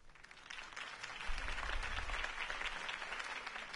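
Faint, steady crowd applause follows a campaign speech in the Batman Telltale video game, a dense patter of many hands clapping from a distance without pause.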